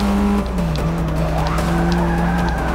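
Car tires skid and slide in the Forza Motorsport 6 racing game, a steady engine drone with wavering squeal tones running nearly throughout, loud and up close, with no talking.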